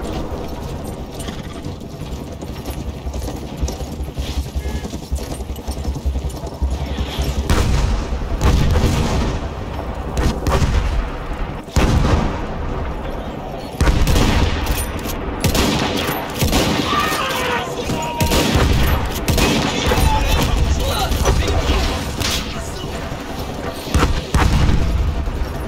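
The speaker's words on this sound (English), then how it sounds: "Artillery already?" Booming artillery fire and explosions crash again and again in Battlefield 1 gameplay, with heavy bursts and rumbling impacts mixed with scattered gunfire, loud and continuous throughout.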